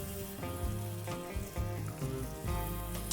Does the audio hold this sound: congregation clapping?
no